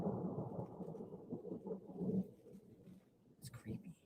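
Thunder rumbling during an approaching storm with lightning, a low, distant rolling rumble that swells and fades under faint rain, with soft speech nearby.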